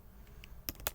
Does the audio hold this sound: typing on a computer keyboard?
yes